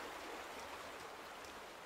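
Steady flowing water in The Vanishing of Ethan Carter, a soft, continuous broadband wash like a stream, faint and even throughout with no voices.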